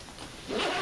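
A zip on a Tamrac Expedition 8 waterproof nylon camera bag is pulled in a brief, close rasp that grows louder midway through.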